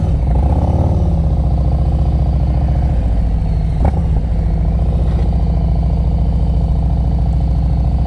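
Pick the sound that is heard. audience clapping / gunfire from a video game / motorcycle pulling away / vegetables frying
motorcycle pulling away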